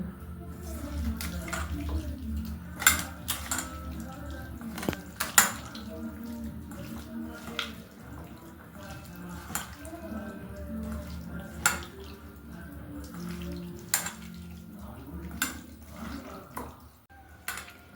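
Prawns mixed by hand with a spice paste in a bowl, making soft wet squelches and slaps with occasional sharp clinks against the bowl, close and steady.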